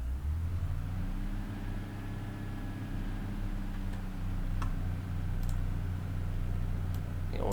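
Modern Pacer train pulling away in Train Sim World on a Cardiff run, a steady low engine drone and rumble building with a rising whine and occasional faint clicks, continuous and close.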